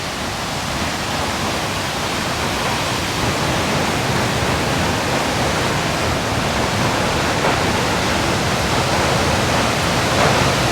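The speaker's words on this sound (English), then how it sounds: "So this Multnomah Falls is basically two falls." Multnomah Falls, a tall two-tiered waterfall in the Columbia River Gorge, gives a steady, loud broadband roar of falling water with no gaps, and nobody speaks over it.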